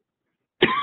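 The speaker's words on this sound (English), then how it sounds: "I'm going to clear my throat" A single short throat clearing breaks total silence near the end, close to the microphone and fairly loud, during a spoken lumbar spine lecture session.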